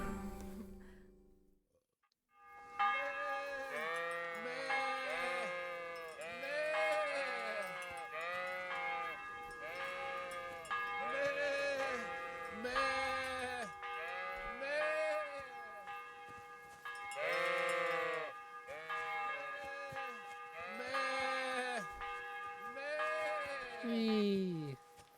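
Sheep in Kingdom Come: Deliverance bleating repeatedly, overlapping calls near and far after a brief silence, with a church bell ringing in the background and people talking over it.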